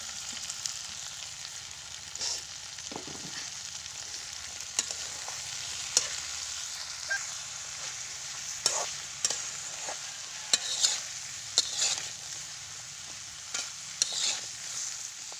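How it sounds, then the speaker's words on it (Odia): Chopped flat beans (shimba) are stirred in a hot pan, with a low, continuous sizzle and a steady series of sharp spatula scrapes and taps against the pan, close and clear. "ଏବେ ଆମେ କଟା ଯାଇଥିବା ସବୁ ଶିମ୍ବକୁ ଦେଇଦେବା ଆଉ ଭଲ ଭାବରେ ମିକ୍ସ କରିନେବା"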